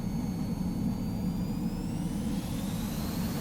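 A BAE Hawk T1 jet engine spooling up during a touch-and-go in Microsoft Flight Simulator, a loud steady turbine roar with a rising whine near the end, no talking.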